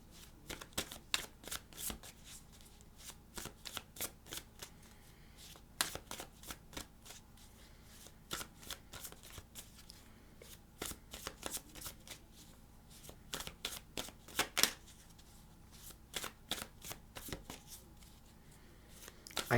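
Tarot cards are shuffled again and again in quick riffling bursts, close and fairly quiet, with short pauses between rounds.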